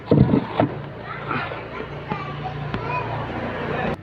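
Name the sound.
Honda Supra X 125 motorcycle engine starting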